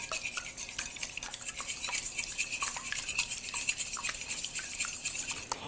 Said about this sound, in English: I'm going to take 6 eggs and get those in my big bowl. And we're going to give them a nice whisk.